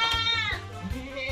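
A goat bleats repeatedly and loudly at close range while being fed fermented cassava leaf feed, with several wavering calls in quick succession.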